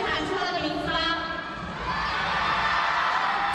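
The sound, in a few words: crowd roaring at climbing semi-final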